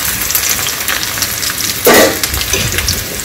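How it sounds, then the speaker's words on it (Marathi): Onion and red chilli sauté in a pan for a chutney, giving a loud, steady frying hiss with a brief louder burst midway. "ते सगळं टाकल्यावर फक्त 2-2 मिनिटच परतून घ्यायचं आहे."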